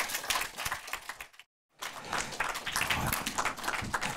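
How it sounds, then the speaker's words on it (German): Audience applause at a German film event fills the room in dense, crackling bursts of clapping, broken by a brief silent gap before resuming loudly. "bitte nochmal großen Applaus"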